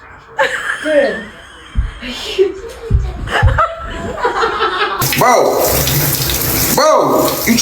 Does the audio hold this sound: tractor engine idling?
no